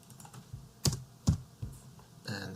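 Keys on a computer keyboard are tapped a few separate times, close and fairly quiet, during schematic design work in OrCAD, with soft clicks spaced out irregularly against a faint room hum.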